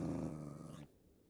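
A low, rumbling dog growl from a video game, loud and continuous for under a second before cutting off into near silence.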